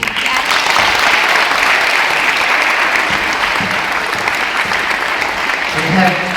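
An audience at a farewell gathering breaks into sustained, dense applause from many hands, steady and fairly loud for several seconds, with some voices mixed in.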